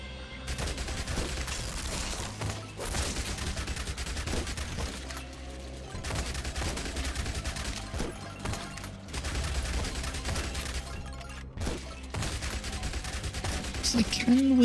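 Rapid submachine gun fire from Yet Another Zombie Survivors, dense bursts repeating almost nonstop under a steady game soundtrack, with a voice talking faintly through parts of it.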